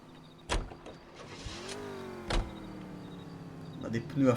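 A car in the video game L.A. Noire hums as its engine tone rises and glides, broken by a few solid thumps like doors shutting.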